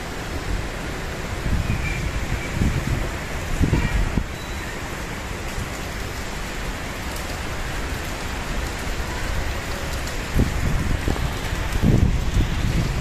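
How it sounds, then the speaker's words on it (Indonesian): Steady rain falls outdoors as a dense, continuous hiss of drops hitting surfaces. Occasional gusts of wind buffet the microphone and briefly make it louder. "hujan guys, hujan"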